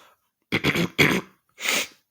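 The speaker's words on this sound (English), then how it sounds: "Excuse me, as I'm clearing my throat" Someone clears their throat up close: a quick pair of rough rasps, a short pause, then one more harsh throat-clearing burst.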